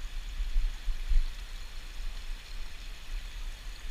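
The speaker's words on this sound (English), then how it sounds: "It's just running water everywhere here." Rain-fed running water flows along a forest nature trail with giant cedars, a soft, steady wash of trickling and rushing water with no voices, faint and ambient rather than close.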